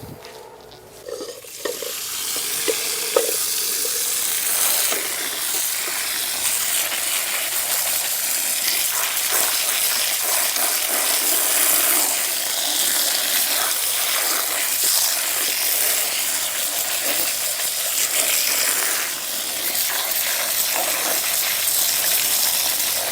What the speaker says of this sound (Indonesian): Kemudian bahan ini kita akan cuci.